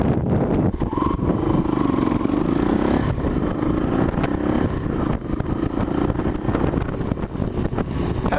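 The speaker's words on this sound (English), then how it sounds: "Don't rev it so high. Now pop it into gear and then go." A dirt bike engine runs loud and close, revving up with a rising tone and then shifting into gear, a continuous buzzing drone throughout with no speech.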